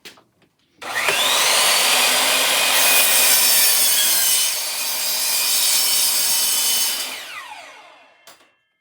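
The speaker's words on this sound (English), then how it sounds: "we're gonna cut the shelf to the length that we need it" A Kobalt sliding compound miter saw cuts a laminate particle board shelf, its motor whining up loudly into a single sustained cut for about six seconds before spinning down, close and without talk.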